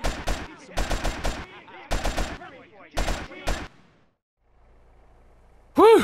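Bursts of automatic gunfire in GTA San Andreas, loud and close, coming in several rapid clusters before falling silent, then one more sharp blast at the end.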